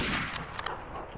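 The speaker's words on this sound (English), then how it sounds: "That was an actual kill with the free kill gun." In the Trouble in Terrorist Town video game, the free kill gun fires a quick series of loud shots over dense, noisy game background.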